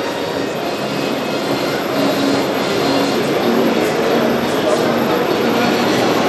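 A large industrial turbo fan runs steadily at a warehousing show, giving off a loud, continuous broadband roar with a low rumble, and voices are faintly mixed in under it.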